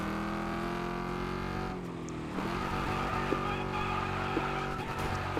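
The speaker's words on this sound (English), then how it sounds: "ever so slightly buzzing the limiter in third if I get the corner right" Race car engine in Wreckfest 2 held high against the rev limiter, a steady harmonic buzz with a brief dip in pitch midway, then a rough roar with small tyre-scrub ticks. It is loud and close throughout, and no one speaks.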